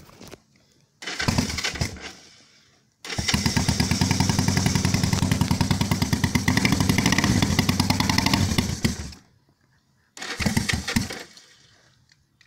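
On a cold morning, a Honda CB450 restomod motorcycle with the choke on gives a brief sputtering start, then a loud, close, steady idle for about six seconds that cuts off, and another short burst of running follows.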